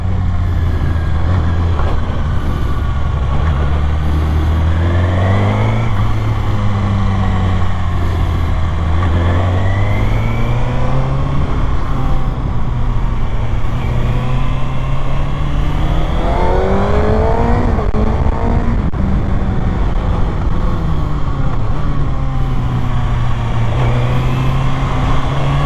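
Kawasaki ZX6R motorcycle ridden in second gear, its engine note rising and falling steadily in loud, continuous pulls with shifting pitch, no talking over it.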